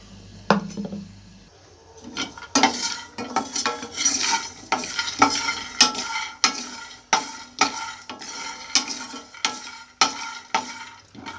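Repeated scraping and clinking of a spatula stirring coconut and other brinjal curry ingredients in a pan, with a light sizzle under the rhythmic strokes.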